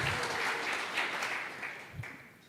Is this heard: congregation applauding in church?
yes